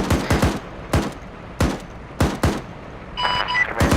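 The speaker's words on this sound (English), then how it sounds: "Also, I hear gunfire." Loud bursts of Arma 3 video-game gunfire crack out at an uneven rhythm, sharp single and double shots close by, with a brief hiss of other noise between them.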